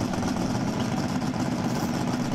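The twin engines of the Challenger II dragster run together on alcohol and nitromethane, making a loud, steady, dense roar that holds even and close for the whole stretch with no talking.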